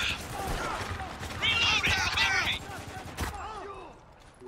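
Bursts of gunfire from the Spec Ops: The Line shooter sound in a desert battle near a turret, with loud rapid volleys and a sharp crack late on, mixed with voices and game effects.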